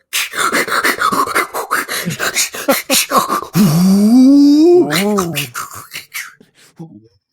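A voice imitates a wrestler's heavy, growling breathing in a promo, producing a long rising and falling groan-like exhale after a stretch of quick, choppy vocal sounds.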